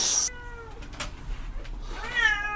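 A cat meows a couple of times, a short high call at the start followed by a longer drawn-out meow near the end, close and clear against a quiet background.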